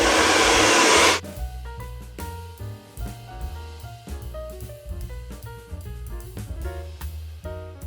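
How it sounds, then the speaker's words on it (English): A hair dryer blows loud and steady for about a second while blow-drying hair with a round brush, then cuts off abruptly and music takes over. "the brush and the blow dry are squishing the hair in between, and you just simply blow dry it"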